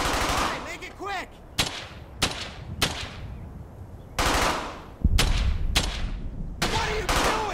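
Machine-gun and rifle fire in the World War II game Brothers in Arms: Hell's Highway: loud, close bursts of automatic fire in irregular clusters, with shouted voices between some of the volleys.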